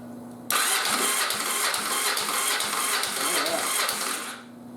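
An old motorcycle engine cranks over on the starter during a compression test, a rapid rhythmic chugging that runs for about four seconds and then stops.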